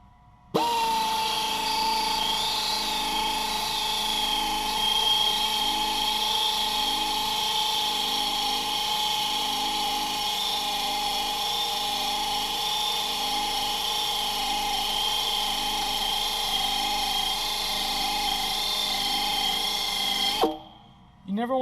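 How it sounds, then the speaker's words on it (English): A tire buffer grinds steadily across a tire surface, evening the rubber to a velvety texture, a loud continuous high-pitched whir that runs unbroken for about twenty seconds before cutting off. "slowly buffing the area till it's nice and even"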